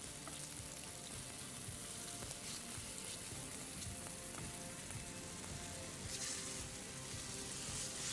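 Tofu pieces fry in a pan in a steady, dense sizzle that stays even and moderately close for the whole stretch, with no voices over it.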